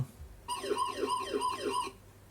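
A VStarcam CS51 security camera's electronic alarm siren wails in fast rising-and-falling sweeps, about five cycles, then cuts off abruptly. It sounds slightly muffled, its speaker covered with tape.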